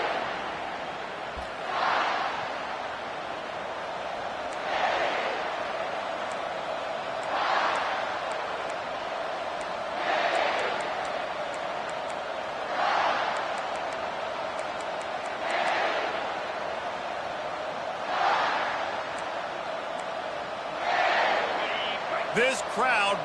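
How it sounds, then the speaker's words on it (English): Stadium crowd in a college football video game, a constant roar of cheering with regular swells of louder noise rising every few seconds, under a commentator speaking. "This crowd bringing an ear-splitting welcome to their visitors."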